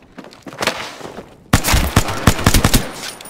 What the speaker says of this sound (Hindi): ओह गोली चली